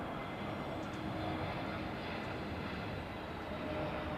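An airliner on its takeoff roll at Heathrow in gusty wind gives a loud, steady broadband jet roar with wind rumble, sustained throughout and without voices.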